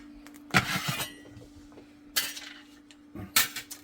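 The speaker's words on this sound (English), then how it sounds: "So let's get both spatulas underneath this." Metal spatulas scrape and clink under a puffed pizza on a hot pizza stone inside a Vevor pizza oven, three separate bursts of scraping with short pauses between, fairly close and without talk.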